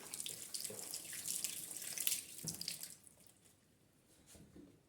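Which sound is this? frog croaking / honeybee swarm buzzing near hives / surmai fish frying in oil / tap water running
tap water running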